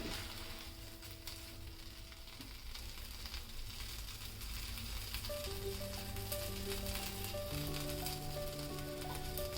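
Masala pav toasting on a hot griddle for Mumbai street-style pav bhaji, a continuous close sizzle and crackle holding steady throughout, with soft tonal music playing underneath.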